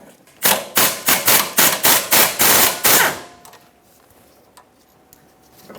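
A power tool, most likely an impact wrench, takes a 12mm bolt off the rear brake hose bracket of a 2008-2012 Honda Accord: about eight loud, evenly spaced bursts, then quiet workshop background.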